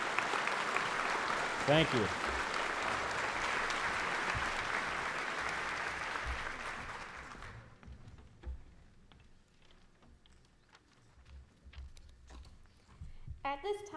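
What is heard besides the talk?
audience applause for students at a school assembly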